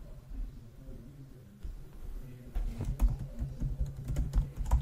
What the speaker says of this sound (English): now I'm going to type in my password